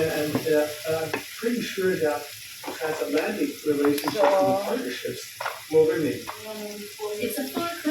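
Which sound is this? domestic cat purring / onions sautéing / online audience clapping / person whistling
onions sautéing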